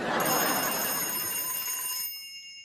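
Frog-shaped telephone ringing: a bright, sustained electronic trill at moderate volume that cuts off after about two seconds, leaving a brief fading tail.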